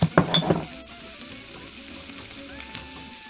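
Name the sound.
vegetables frying with scrambled tofu in a pan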